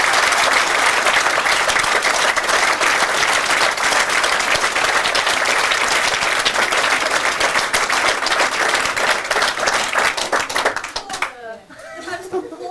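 An audience at a live event gives sustained, loud applause and clapping for most of the stretch, then it fades quickly near the end as a voice begins speaking.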